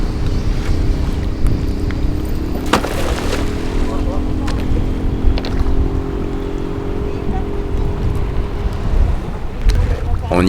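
Low rumbling engine drone of fishing boats in the small, busy harbour of Masirah island, steady and close, with wind noise and a few sharp knocks and clanks.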